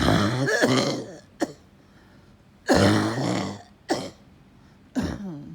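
Several harsh, raspy coughs in separate bursts, loud and close, with quiet pauses between them.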